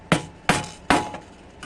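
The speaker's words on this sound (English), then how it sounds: "My hammer." Three sharp, evenly spaced hammer blows strike a metal can, punching a hole in its side for an alcohol stove; each hit rings briefly, close and loud, with no talking.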